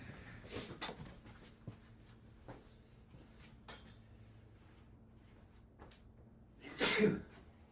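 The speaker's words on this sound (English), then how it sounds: "I'm going to sneeze here." A single loud sneeze bursts out near the end, following a stretch of quiet room tone with a few soft knocks and clicks.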